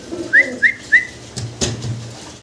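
Pigeons at a Bangladeshi pigeon seller's give three short, bright, evenly spaced calls, close and clear, followed by a low murmuring coo in a quiet room.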